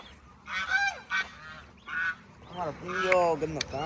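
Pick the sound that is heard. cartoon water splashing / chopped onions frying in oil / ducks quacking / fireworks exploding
ducks quacking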